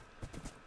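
Horse hooves clip-clop in Minecraft as a fast horse gallops, a few quick muffled thuds in rapid rhythm, faint and close, with no talking.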